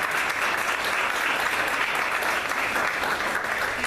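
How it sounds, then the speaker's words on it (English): Audience applause for a student at a school board of education meeting: dense, steady clapping from a room full of people that fills the whole stretch without pause, with no voices over it. "I'd like to give her a round of applause"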